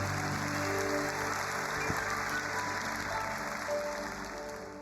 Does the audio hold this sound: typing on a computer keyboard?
no